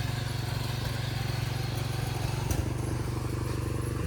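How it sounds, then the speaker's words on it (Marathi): A tractor engine runs steadily while ploughing a field, a continuous low, even drone with a regular rumbling pulse and no pauses, close and fairly loud throughout. "तर दुसऱ्या तोंड्यात नांगर धरलेलं आहे आपलं ट्रॅक्टर"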